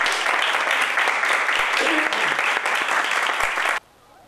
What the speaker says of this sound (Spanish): le damos un aplauso a la chiquilla